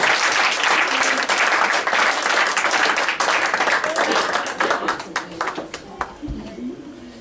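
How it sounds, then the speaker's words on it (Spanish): A church congregation bursts into full, loud applause, a thick burst of clapping that thins into scattered individual claps as it fades, with voices faintly underneath. "El buen aplauso a Dios"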